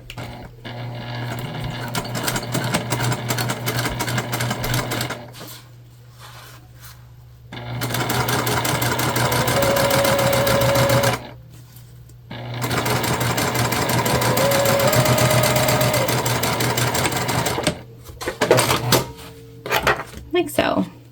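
A sewing machine bastes a zipper onto a crossbody bag, running in several steady, humming stretches with pauses and light handling clatter between them. A voice talks intermittently over a constant low hum.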